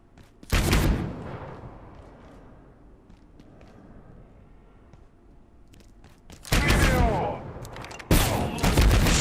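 Gunfire in the video game Abiotic Factor: a loud burst of rapid shots opens, followed by a quieter stretch of scattered sounds, then two heavy, dense volleys of fire near the end.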